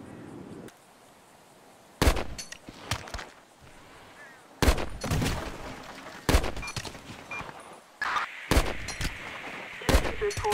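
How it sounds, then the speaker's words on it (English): Gunfire in the video game GTA 5: repeated sharp bursts of shots and fusillades in several clusters, loud and close, separated by brief quieter gaps. "Shots fired."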